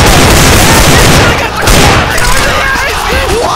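Dense bursts of gunfire from Counter-Strike: Global Offensive play fill the moment loudly, overlapping rapid shots and booms, with a voice partly audible underneath.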